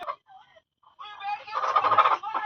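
A loud, rough fowl call with a gobbling, warbling quality, close by, after a few brief squawks.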